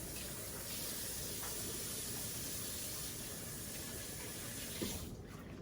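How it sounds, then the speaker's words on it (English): Tap water runs steadily into a kitchen sink as hands are washed beneath it, a continuous close hiss with a faint splash near the end and no talking. "Okay, we're going to wash our hands."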